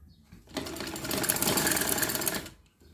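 An electric sewing machine runs a steady, loud stitching burst for about two seconds while sewing a panel of a frock, starting and stopping cleanly.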